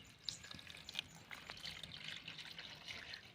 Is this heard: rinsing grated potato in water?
yes